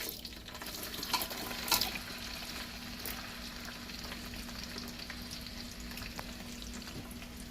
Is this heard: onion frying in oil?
yes